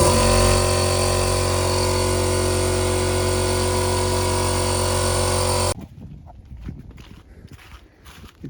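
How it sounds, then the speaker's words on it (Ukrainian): An air compressor receiver kicks on to pump air into garden irrigation lines being blown out for winter, a loud steady motor drone with tonal hum that runs for several seconds, then cuts off abruptly, leaving faint background noise. "І зараз включиться ресивер, підкачувати повітря."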